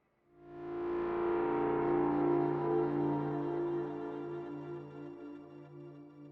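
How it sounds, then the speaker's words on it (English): A single sustained distorted electric guitar chord rings out loudly, then slowly decays with a gritty, fuzzy tone. "it's a nice little distortion"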